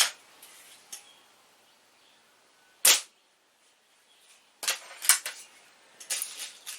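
Crosman Phoenix air rifle firing 5.5 grain pellets: a sharp crack near 2.9 seconds, then a cluster of clicks and snaps from about 4.6 seconds on, all close by with quiet gaps between.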